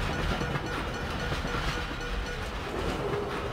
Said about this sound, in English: Was that a train?